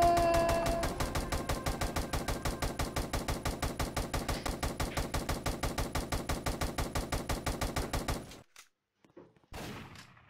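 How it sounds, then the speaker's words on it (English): Rapid automatic gunfire from an SCP horror video game, a steady loud burst of evenly spaced shots lasting about eight seconds, then cutting off into near silence with a brief rustle at the end. "I'm shooting somewhere."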